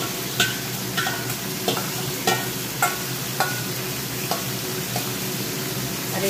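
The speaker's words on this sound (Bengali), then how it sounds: "একবারে চিংড়ি মাছটা দিয়ে দিলাম।" Prawns fry in a pan on a gas stove, a constant close sizzle broken by a regular run of sharp scraping knocks as a utensil stirs them about once a second, with no speech.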